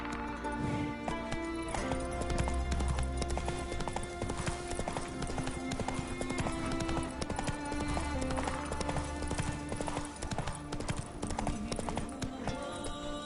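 Roach the horse gallops steadily in The Witcher 3: Wild Hunt, with continuous rhythmic hoofbeats and an occasional whinny under a dense, ongoing musical score.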